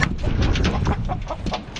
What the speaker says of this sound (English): that rooster right there, he's pretty.